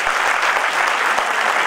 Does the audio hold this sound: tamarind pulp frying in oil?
no